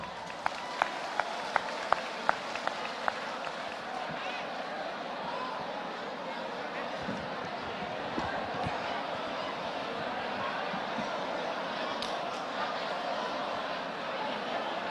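Crowd at a Khmer boxing bout claps, with a few sharp, loud claps at the start giving way to a steady hubbub of audience noise and babble.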